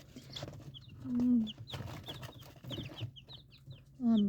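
Several chickens cluck softly nearby, with a couple of louder drawn-out calls standing out among scattered short clucks.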